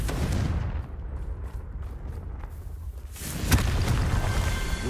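A Confringo blasting spell cast in the Hogwarts Legacy video game, with a sustained rumbling burst and crackle around the middle, followed by a sharper impact and a louder roaring tail.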